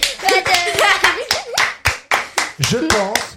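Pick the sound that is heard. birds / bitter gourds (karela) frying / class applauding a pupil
class applauding a pupil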